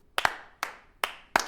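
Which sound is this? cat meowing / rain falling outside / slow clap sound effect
slow clap sound effect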